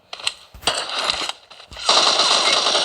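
Video-game enemy gunfire: a couple of sharp single shots followed by a loud, sustained automatic burst, close and harsh, with no talking over it.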